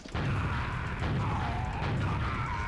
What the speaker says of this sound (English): they just shoot a rocket directly below you